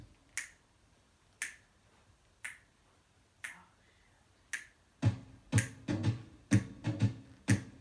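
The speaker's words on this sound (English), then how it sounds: "Everybody start snapping your fingers here" Finger snaps keep time to a swing tune: single crisp snaps at a steady one-per-second beat, then from midway a denser, louder cluster of many audience members snapping together in rhythm.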